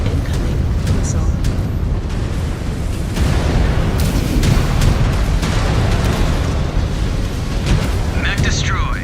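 Incoming missile explosions in MechWarrior 5: Clans: continuous heavy rumbling booms and blasts, loud and dense with sharper impacts scattered throughout, while a voice speaks intermittently.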